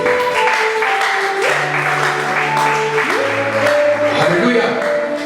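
A church congregation applauds and cheers in acclaim of the Holy Spirit, a steady wash of clapping with sustained organ or keyboard chords underneath.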